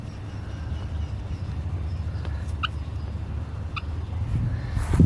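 A cheeky bird in a tropical garden calls as it comes in for its feed, a few short, high, gobbling-like calls over a low, steady rumble of background noise.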